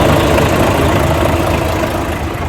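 A truck engine, a new Volvo in the Emirates, idles loud and close as a steady dense rumble with no break through the clip.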